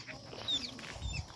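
Chicks cheep faintly in a village during the Dashain festival, a few thin high peeps over a quiet outdoor background with some low rustling.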